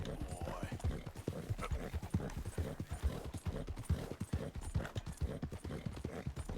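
Horse hooves clip-clop in a quick, steady rhythm in the video game Red Dead Redemption 2, close and continuous, with a faint whinny from the horse among the steps.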